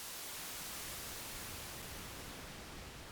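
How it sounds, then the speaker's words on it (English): Steady broadband hiss from an analog synth's noise source in Ableton Live, blending between bright white noise and darker, softer pink noise; loud, continuous and even throughout, with no voices. "it just kind of fades between our white noise and our pink noise sound"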